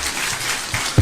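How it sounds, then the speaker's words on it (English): Audience applause at a live joint announcement by Raila Odinga and President Ruto in Kenya, a brief steady wash of clapping from a crowd with a slightly louder burst at the very end. "Another round of applause for the principals"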